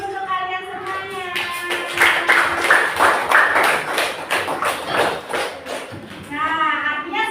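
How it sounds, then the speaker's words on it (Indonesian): Schoolchildren in a classroom clap their hands for several seconds in a burst of quick, scattered claps, with a teacher's voice talking just before and after. "Tepuk tangan dulu untuk kalian semuanya."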